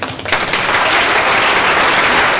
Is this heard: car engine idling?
no